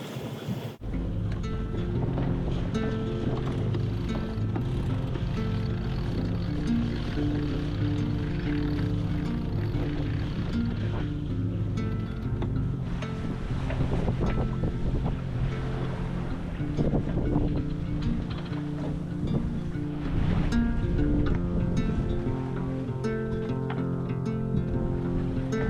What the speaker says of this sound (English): we've had enough wind to pull the sails out, sort of getting 9 or 10 knots consistently